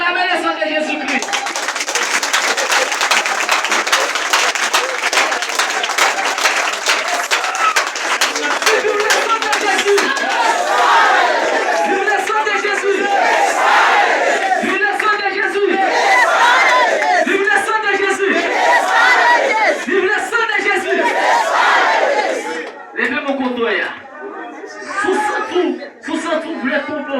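Church congregation at a Haitian service loudly cheering and acclaiming together, a dense sustained roar of many voices with shouted cries, later thinning into scattered calls and a lone voice leading.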